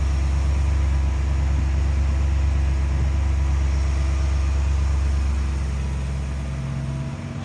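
A 350 V8 in a 1940 Buick Special two-door street rod idles smoothly with a steady, deep, even rumble, heard close and alone throughout.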